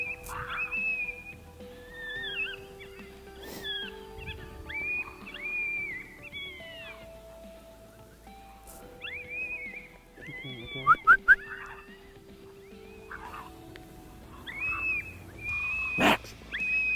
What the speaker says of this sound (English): pup fighting, some coyote fighting, hoping to really trigger an aggressive response so the coyotes come to the call